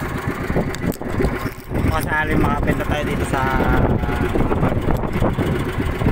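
A boat engine hums and rumbles steadily nearby while someone talks over it.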